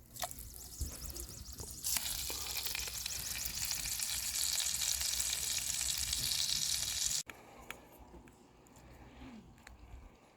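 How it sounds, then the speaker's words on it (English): Spam sizzles loudly in butter in a cast iron pan, a bright steady frying hiss that swells after a quieter start, then drops away suddenly to softer pan crackle and light clinks. "And then we're going to get our Spam cooking."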